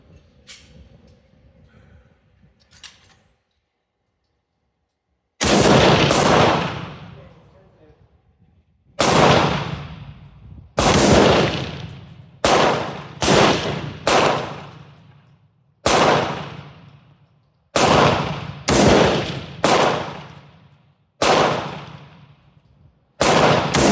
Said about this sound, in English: Just shoot the whole mag.